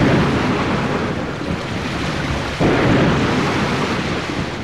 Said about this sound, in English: Danae and her son Perseus were tossed over the waves for many days, through the harshest storms